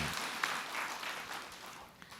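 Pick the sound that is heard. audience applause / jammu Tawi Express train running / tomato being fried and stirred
audience applause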